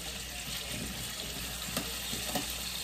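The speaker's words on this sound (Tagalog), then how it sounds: "Ngayon, piniprito ko ang patatas." Potatoes frying in a pan for beef caldereta, a low steady sizzle and crackle with faint clinks of a utensil, heard close and quiet with no talking.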